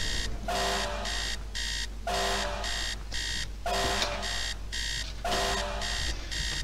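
In the 2006 video game Yakuza Revenge, an alarm clock rings in regular bursts of shrill electronic beeping, each burst separated by a short pause, steady and alone.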